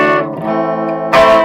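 A Fender Player Series Stratocaster electric guitar played through distortion: sustained, buzzy chords ringing loud and close, with a fresh, brighter strum near the end.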